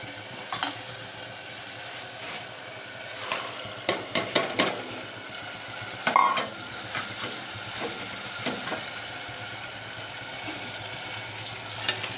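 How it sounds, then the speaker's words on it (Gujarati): Tomatoes sizzle in a hot tempering (vaghar) for a Gujarati pigeon pea curry, a low, steady frying hiss broken by several sharp clinks and scrapes from stirring, loudest in a cluster midway. "મસ્ત મજાનો વઘાર થઈ ગયો છે ટમેટાનો"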